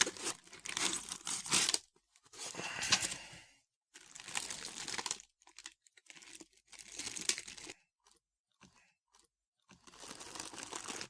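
Crinkling, tearing packaging as a 1/18 scale Audi S8 model car is unwrapped, with bursts of close crumpling and rustling separated by brief pauses.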